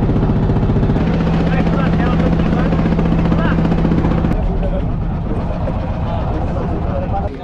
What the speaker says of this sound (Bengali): আমাদের ট্রলার কিছুক্ষণের মধ্যেই ছেড়ে দেবে